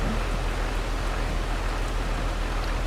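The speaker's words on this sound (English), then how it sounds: "Why is rain not stopping?" Steady rain in the video game Farming Simulator 22 hisses as a constant, dense wash of noise. It has no pauses and no voices.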